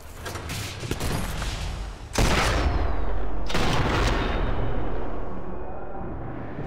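Sniper rifle fire in Sniper Elite 4 on a snowy map, with two loud, sharp shots that boom and ring out in long decaying tails over quieter background gunfire.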